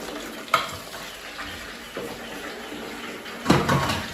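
Aloe vera pieces sizzling in hot oil for homemade hair oil, a steady frying hiss broken by three sharp stirring knocks against the pan.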